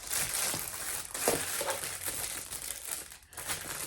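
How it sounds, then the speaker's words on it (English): A plastic bag crinkles close up while diamond painting drills are put away, producing continuous rustling and crackling with irregular louder crunches throughout, and no speech. "Actually, I'm gonna put it back in the bag"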